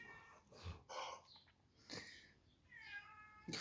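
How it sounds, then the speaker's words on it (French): A cat meows several times from somewhere outdoors, its cries separate and moderately close, with short pauses between them. "Le chat est en train de déprimer dehors parce qu'il n'est pas avec nous."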